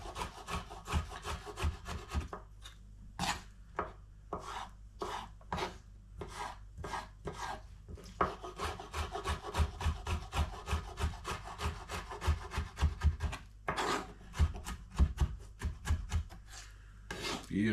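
Knife dicing gherkins on a cutting board outdoors, a rapid series of sharp, close chopping taps in uneven bursts with short pauses between runs.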